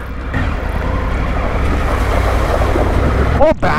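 A Triumph Tiger 900 Rally Pro motorcycle crossing water on an off-road trail, a steady rushing wash of water and engine under heavy wind noise on the microphone, continuous and close throughout.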